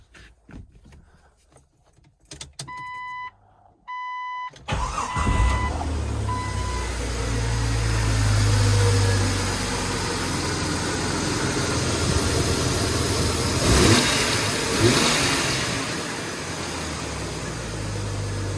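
An engine is cranked and catches, then settles into a steady, loud idle with a brief rev partway through, preceded by a few electronic chimes and warning beeps.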